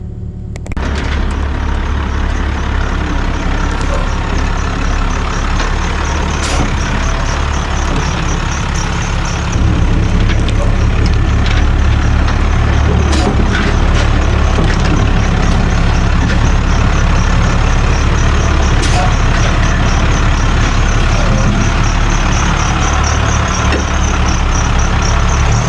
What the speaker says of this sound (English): Let's see if I can get this dump truck down to this lower level.